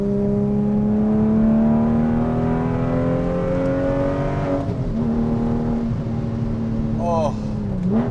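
A Porsche 996 911 with an X-pipe exhaust drones loudly from inside the cabin, its tone rising steadily as it revs, then dipping briefly and climbing again near the end.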